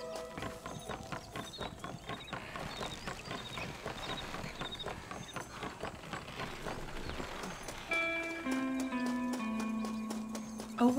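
Horse hooves clip-clop steadily in the Red Dead Redemption video game, a continuous quick patter under game music, with a brighter tonal passage near the end.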